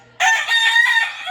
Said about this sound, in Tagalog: Ito yung maingay guys. Yung maingay na manok.